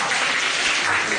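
A theatre crowd at a Deyunshe crosstalk comedy show, with Guo Degang and Yu Qian on stage, breaks into brief, thick applause that stays close and continuous throughout.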